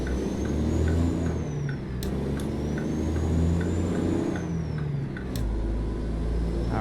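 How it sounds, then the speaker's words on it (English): A delivery truck on a local city run pulls away from the curb and back onto the road, its engine rumbling and revving steadily up close while a turn-signal ticks and tyres hiss over pavement. "Let's hop back into the truck and continue on our journey."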